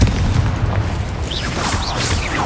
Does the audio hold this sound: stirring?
no